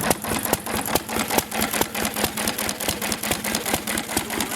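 A McCormick Deering M tractor engine runs steadily after a first start, with a fast, even chugging beat that holds at a constant loud level throughout, no voices over it.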